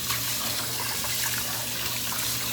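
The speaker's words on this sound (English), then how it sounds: "So I like to clean my rice and run the water" Tap water runs steadily over jasmine rice being rinsed in a bowl, a close, continuous gushing splash with no talk.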